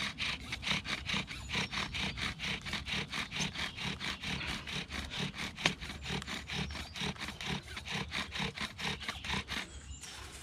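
A primitive bow drill spins against wood with a steady, rapid back-and-forth rasping, each stroke a dry scraping burst, close and continuous for about ten seconds.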